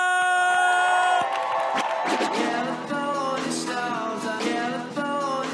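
A loud competition crowd cheers and whoops for a DJ, with shrill sustained shouts and screams filling the space throughout, over a tonal hum at the start.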